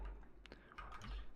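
Fast bursts of keystrokes on a computer keyboard, irregular clusters of clicks at close range, quiet and with no voices.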